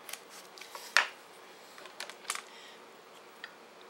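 A knife slicing a lime in half on a cutting board while making shrimp ceviche, with one sharp clean cut followed by a few soft taps and handling noises, close and fairly quiet.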